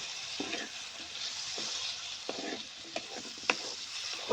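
Potatoes roasting in a spiced masala in a pan, a faint steady sizzle with soft stirring scrapes at intervals, no talk.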